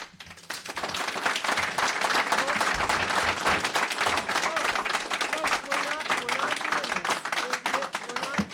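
Audience clapping fills a select board meeting hall, a dense, steady wash of many hands that swells quickly and holds loud throughout, with crowd voices mixed in underneath.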